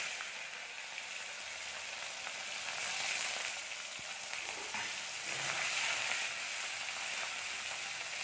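Dried fish (shutki) sizzles and crackles steadily in hot mustard oil in a pan, a dense continuous fry with occasional louder pops and stirring scrapes.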